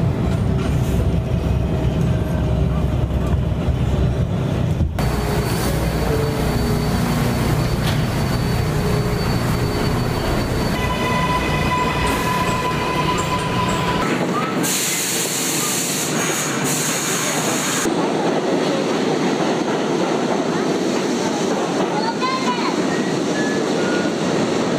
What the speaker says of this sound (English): We're on the train now, on our way to the court hearing.